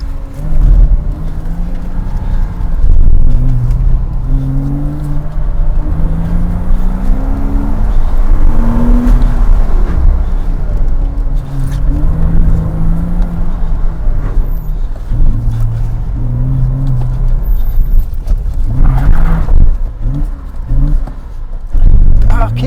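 A 2007 Porsche Cayman engine drones loud and close from inside the cabin while the driver struggles to find a faulty reverse gear. The rumble swells and dips with small revs across more than twenty seconds.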